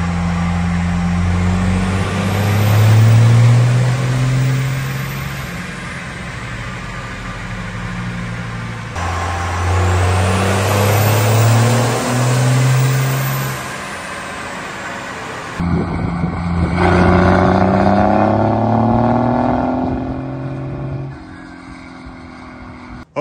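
A Ram diesel pickup truck with a P-pump and 5-inch exhaust revs hard on a chassis dyno, the engine climbing through long loud pulls in repeated runs before dropping back to a lower idle, no talk.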